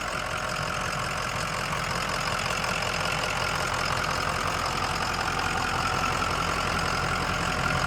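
A 2005 Ford Excursion Eddie Bauer 4x4 with a turbocharged 6.0L Powerstroke diesel and a new engine idles steadily, a dense, continuous rumble with a rattly diesel clatter, heard close with no talking.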